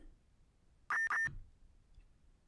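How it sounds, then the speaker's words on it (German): A fire brigade pager alert in the Emergency 4 video game gives two short, sharp electronic beeps in quick succession, loud and clear over a quiet background. "Alarmierung FME."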